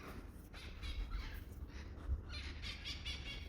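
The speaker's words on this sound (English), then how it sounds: "Do you hear those birds?" Birds squawk and chatter in bursts against a steady outdoor hiss, somewhat distant, with several calls overlapping toward the end.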